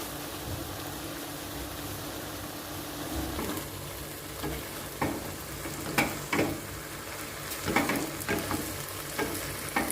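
Chicken stir-fried with bell pepper and onion on a stove, giving a steady sizzle with scattered clanks and knocks from the stove and pan that grow more frequent toward the end. No one speaks.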